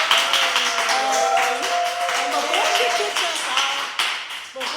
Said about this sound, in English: clap it up for your favorite girl